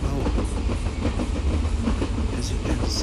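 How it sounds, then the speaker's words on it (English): A long train with more than 20 wagons arrives in the TrainStation 2 mobile game, a dense steady rumble with rhythmic clickety-clack of wheels, loud and continuous. "This is the legendary train from"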